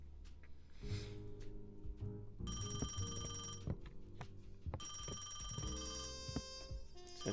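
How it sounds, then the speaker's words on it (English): Telephone ringing in the video game Crime or Punishment: repeated bursts of a bright electronic ring stand out over a continuous game music bed, with no talking. "I better answer the phone before I leave."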